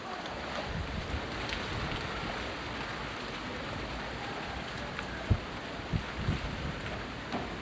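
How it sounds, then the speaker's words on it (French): Steady wind rushes and buffets against the microphone, with a few louder gusts and thumps near the end; no one speaks. "Vous voyez qu'aujourd'hui il y a beaucoup de vent"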